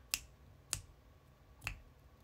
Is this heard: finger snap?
yes